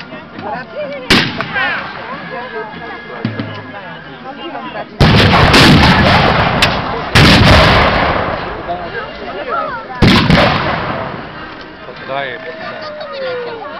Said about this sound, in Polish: Jednak jeszcze niecierpliwi żołnierze, jeszcze strzelają.